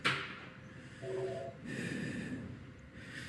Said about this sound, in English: I hear heavy breathing.